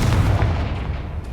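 Confringo fire spell blast in the Hogwarts Legacy video game: a single heavy booming burst with a deep low rumble that fades quickly, heard alone without talk.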